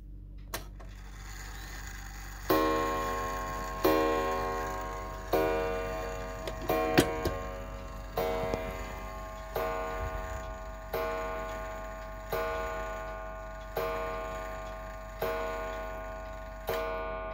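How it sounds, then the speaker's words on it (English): A 1906 William L. Gilbert kitchen clock striking the hour with a series of evenly spaced ringing chimes, each decaying before the next, close and clear over a faint steady background hum, with no voices. "Ain't that a beautiful sound on a kitchen clock?"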